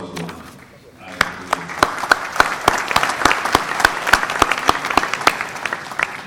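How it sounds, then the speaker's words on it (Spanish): After a quiet second, an audience at a 2016 post-conflict forum in Pereira, Colombia, breaks into loud applause for a project. Sharp, close claps stand out in a steady rhythm over the wider crowd clapping, holding strong to the end. "Felicitaciones y un aplauso a este proyecto"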